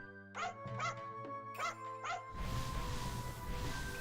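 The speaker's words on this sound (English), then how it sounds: "It's a dog." Dog in the Onimusha 2 video game giving several short, sharp barks and yips in a quick cluster over steady game music, followed by a denser noisy stretch of background sound.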